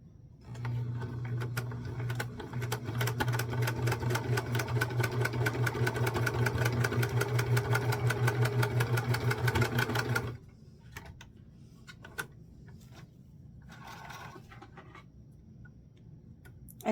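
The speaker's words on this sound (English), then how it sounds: "you just quilt it enough to keep it down" Sewing machine quilting a mini sunflower quilt: a rapid, steady mechanical chatter of stitching runs for about ten seconds close up, then stops, leaving quiet room sound with a few faint clicks and handling noises.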